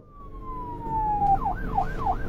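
A cartoon police car siren starts as a long falling tone, then swings into a rising-and-falling wail that repeats three times, growing louder as it approaches.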